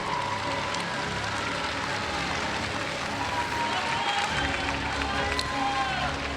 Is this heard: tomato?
no